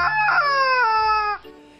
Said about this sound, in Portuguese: Que é uma galinha de borracha.